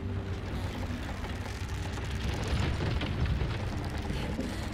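A low rumbling explosion in The Walking Dead Season 4 video game, a sustained muffled boom with noisy debris swelling slightly midway and holding steady throughout.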